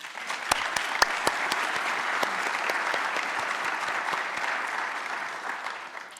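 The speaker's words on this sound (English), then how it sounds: "So please join me in giving them a round of applause." Applause rises at a lunar science conference as student team winners are honored, a moderate, steady patter with a few sharp, distinct claps standing out near the front, no talk over it.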